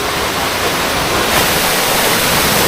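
Balala Falls at Abra de Ilog, Occidental Mindoro, roars as a loud, dense and unbroken rush of falling water, close and steady with no voices over it.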